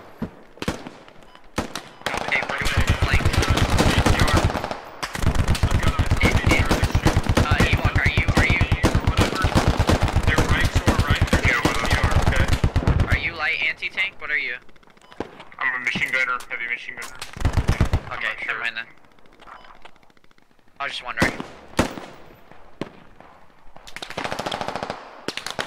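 Sustained machine gun fire in the military shooter Squad: long, loud, rapid automatic bursts lasting several seconds, then shorter scattered volleys and distant pops, with voices talking over parts of it.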